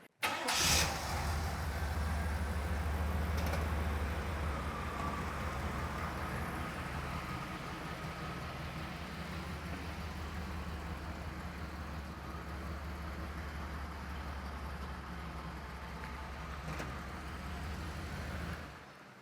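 A 1988 Chevrolet Camaro IROC-Z engine cranks and catches near the start, then settles into a steady, fairly loud rumble as the car pulls out, continuing without talk for nearly twenty seconds.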